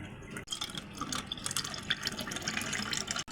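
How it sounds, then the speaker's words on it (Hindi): Water pours steadily into a glass of cardamom sharbat with tukh malanga seeds, a continuous close splashing and trickling stream that runs almost unbroken from start to finish. "तो अब इसमें मैं शामिल करूँगा पानी"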